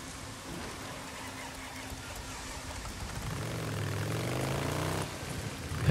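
A motorcycle engine in the video game Days Gone drones steadily, then rises in pitch and revs louder as the bike pulls away, over a background of ambient game noise.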